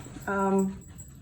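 A dog being let indoors gives a single short, close whining yelp with clear harmonic tone, heard alone against a quiet room background.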